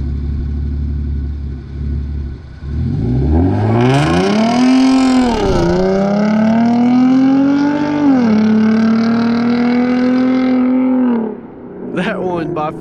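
A Hyundai Genesis Coupe launches hard with traction control off, its engine revving up sharply through a rising, wavering roar as the tires spin, holding a loud steady drone for several seconds before cutting off; brief thumps follow.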